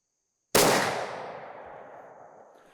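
One sharp, loud blast from a muzzleloader charged with Triple Seven powder and firing a 270-grain Federal BorLock bullet, followed by a long rumbling decay across the range.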